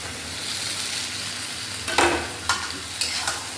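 Potatoes and eggplant being stirred in hot oily masala for a Punjabi aloo baingan sabzi, a steady close sizzle broken by a few sharp scraping stirs of the spoon against the pan.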